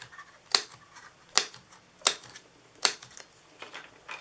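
A small 1/8 inch craft paper punch snaps through paper four times at a steady pace, each a crisp, close click-clack with short quiet gaps between.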